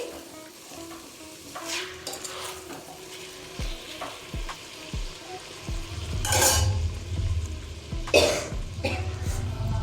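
Chicken pieces frying with ginger garlic paste in a pan, a low sizzle stirred now and then with scrapes and clinks of a utensil, with a few coughs and throat clearing nearby.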